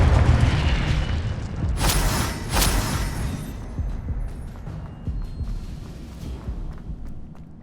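Heavy booming blasts from Confringo fire spells in the video game Hogwarts Legacy, with two bright bursts near the start over a dense, rumbling game soundscape that slowly fades.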